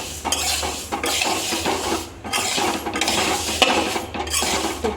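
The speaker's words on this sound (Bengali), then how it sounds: "এটা আরেকটু ভাজবো, তারপর নামিয়ে নেব" Taro stolons with fish roe being stirred and fried in a pan, with repeated scraping strokes of a utensil against the pan every second or so over a steady low sizzle, close and moderately loud.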